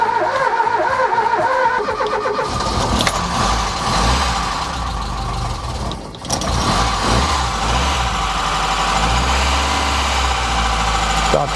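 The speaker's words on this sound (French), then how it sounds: "C'est un peu un bruit de soupape quand même." A Ford Taunus engine runs with some valve noise, idling and revving unevenly with a brief dip partway through, mechanical clatter over a low drone, close and fairly loud.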